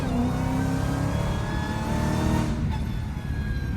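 A Dodge Hellcat's engine pulls hard from behind the wheel, a loud, close roar whose pitch climbs steadily under acceleration, then briefly dips as it shifts before rising again.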